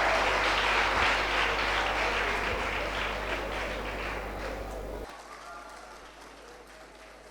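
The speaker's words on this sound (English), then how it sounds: "Please give Don Bosco and Pinel Academy a wonderful round of applause" Applause for the competing school teams at the end of a quiz competition, a dense steady clapping from an audience in a hall that fades out, followed by near silence.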